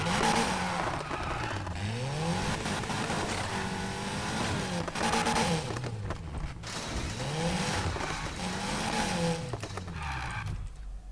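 A racing car engine in the Need for Speed video game, a modified Volkswagen Golf, revs up and down repeatedly, whining through gear changes at high pitch, loud and continuous with no talking.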